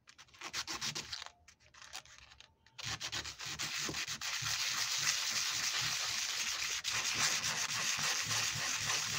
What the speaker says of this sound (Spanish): voy a agarrar una lija y le voy a pasar